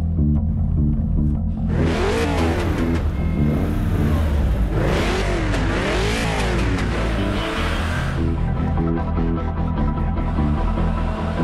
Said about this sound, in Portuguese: Chevrolet Equinox com motor turbo de 262